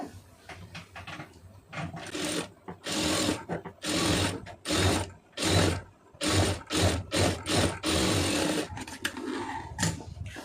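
A sewing machine stitches a fabric hem in bursts of fast, rattling needle runs separated by short pauses, close and fairly loud, with no talking.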